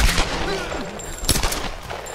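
Gunfire in the Tomb Raider video game crackles in quick bursts of sharp, close shots with a busy, loud action backdrop around them.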